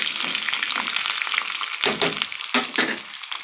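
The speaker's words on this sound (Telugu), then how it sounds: "ఎండుమిరపకాయలు, పచ్చిమిరపకాయలు వేగుతున్నాయండి నూనెలోనే." Dried and green chillies fry in hot oil for a breakfast dish, a loud close steady sizzle with a few stirring scrapes and bubbling surges near the end.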